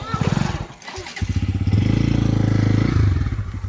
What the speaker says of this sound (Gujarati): શેર વાળું બાઈક